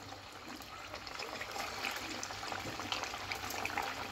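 Pieces of sago and potato fasting snack frying in hot oil, a dense, even bubbling sizzle, loud and close and continuous throughout.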